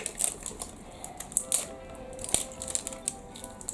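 Crisp snips and crinkling plastic come up close as a toy package, a squishy collectible, is cut open. The clicks and rustles are irregular and fairly quiet, and no one talks over them.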